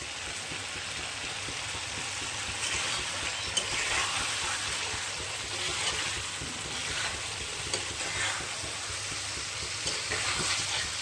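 Potatoes with garam masala sauté in a pan for Kashmiri aloo dum, a continuous dense sizzle with irregular scraping and stirring strokes, fairly close and steady, with no voices.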